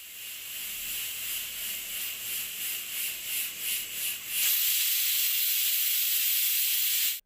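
A loud, steady steam hiss from a pressure cooker whistle on a medium flame, cooking drumstick rasam, pulsing rhythmically at first and then swelling into a continuous bright jet of venting steam.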